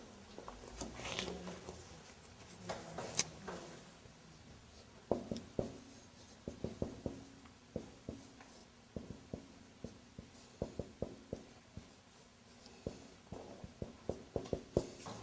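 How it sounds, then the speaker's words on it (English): Pen or pencil writing by hand during an Arabic grammar lesson, a run of short scratching strokes and taps with pauses between them, close and fairly quiet, with a few brief bits of voice early on. "Maybe I should write it."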